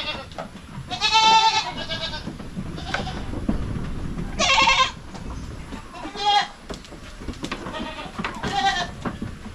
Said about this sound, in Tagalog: Yung mga kambing natin dito, mga kaprobinsya, marami na sila.